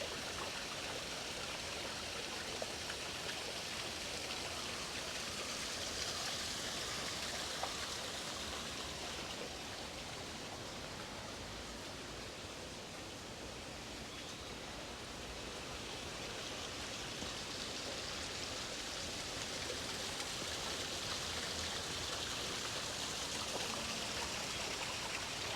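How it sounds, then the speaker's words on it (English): Waterfall beside a Japanese garden in Tokyo: a steady, faint wash of falling water rushes continuously and evenly without a break, heard alone at a moderate distance. "right next to an actual waterfall"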